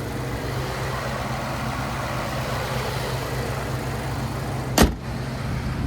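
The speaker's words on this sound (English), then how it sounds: "And there's that supercharged V8." The supercharged V8 of a 2020 Saleen F-150 SportTruck idles outdoors in cold weather, a steady low rumble interrupted near the end by a brief sharp click or thump.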